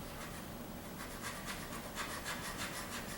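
Wood is worked against sandpaper during a dovetail neck reset on a guitar, giving soft, fast rubbing and scraping strokes that grow in rhythmic pulses, faint and close, with no talking.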